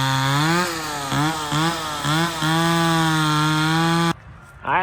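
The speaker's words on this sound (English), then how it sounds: "We got Drake manning the chainsaw" A chainsaw cuts wood during a minicab build, its engine holding a loud, close, buzzing drone broken by a few brief dips in pitch as it bites, then cutting off near the end.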